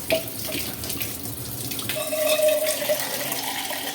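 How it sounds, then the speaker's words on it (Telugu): Water is poured into a pot of mutton bone soup while cooking, a brief close splashing gush that steadies into a running pour. "వాటర్ వేసేసాయి, వేసేయి, అది వేసేయి, పోసేయి మొత్తం."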